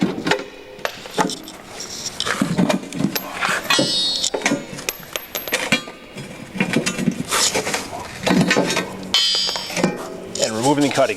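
Bolts are pushed out through a worn snowplow cutting edge, giving a run of metallic clanks, scrapes and ratcheting knocks in irregular bursts, close and fairly loud, with no talking over the work.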